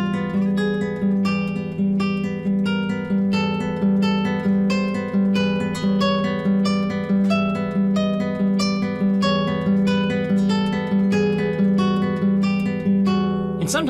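A guitar improvises modal lines with notes picked along a single string over a steady low drone, producing a continuous, evenly pulsing stream of plucked tones at a close, consistent volume.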